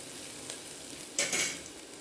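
Vadagam and asafoetida powder hit hot oil in a pan, giving a short, crackling sizzle that flares up sharply and then settles into a soft frying hiss.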